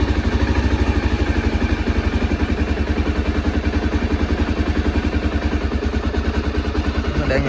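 A Honda AX-1 motorcycle engine idles steadily with the choke being eased back, a close, even rapid thumping pulse with mechanical clatter running throughout.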